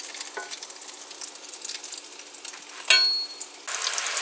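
Potato balls deep frying in hot oil give a steady, close crackling sizzle throughout, with a brief louder spatter near the end and a brighter hiss rising in the final half second.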